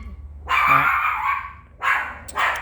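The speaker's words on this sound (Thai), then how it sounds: "มันได้ยินเสียงอะไรแว่วๆมันก็เห่า" A dog barks in a quick run of loud, close yips and woofs, pauses briefly, then lets out two more sharp barks.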